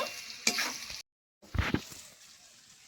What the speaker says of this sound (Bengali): হলুদের সঙ্গে নুনের সঙ্গে আর একটু ভেজে নেব